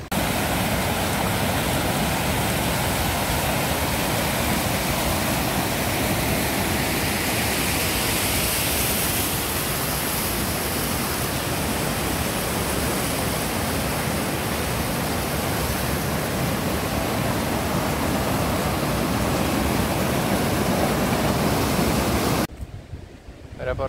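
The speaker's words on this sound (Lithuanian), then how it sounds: "Priėjom dar ir rimtesnį šaltinėlį. Kalnų upę, turbūt galime jau sakyti." A mountain stream near Zakopane rushes loudly and continuously, a dense hiss of flowing water close by that holds steady throughout before cutting off at the very end.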